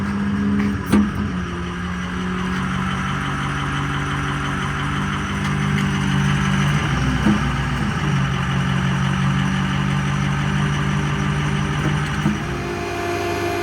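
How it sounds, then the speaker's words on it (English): Steady drone of a 2006 Ford F550 work truck running its SRS 40 PTO-driven compressor, an even mid-pitched engine hum with a faint rise around the middle, continuous and close with no voices. "Compressor operation is very quiet. An SRS 40 PTO driven compressor."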